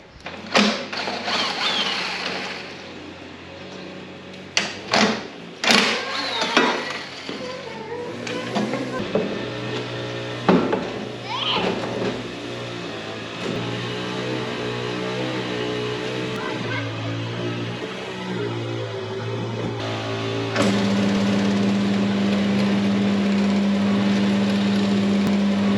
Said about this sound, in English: That's the length I have to cut this at now, so I'll run it in the bandsaw.